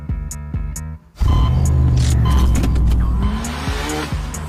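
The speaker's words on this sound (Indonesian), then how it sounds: "Gak mungkin ada yang bisa lakukan drift sesempurna itu." A car drifts hard with loud, sustained tire squeal and a roaring engine close by; the squeal starts abruptly and holds for several seconds.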